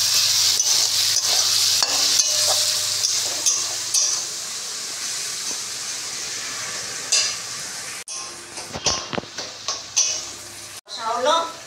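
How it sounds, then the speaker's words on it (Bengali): Spice paste for Bengali chicken kasha fries and is stirred in a pan, a soft continuous sizzle broken by scraping spoon strokes, growing sparser and more clattery toward the end; someone speaks over the cooking. "মশলাটা কষা হচ্ছে।"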